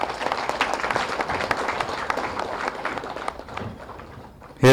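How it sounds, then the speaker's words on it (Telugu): An audience claps together after a talk, a dense burst of applause that gradually thins and fades over a few seconds. "విజయభాస్కర్ రెడ్డి గారికి క్లాప్ చేద్దాము."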